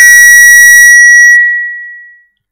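A cell phone rings in a conference room with a single loud, bright electronic tone that sustains briefly and then fades out over about two seconds, with no talking.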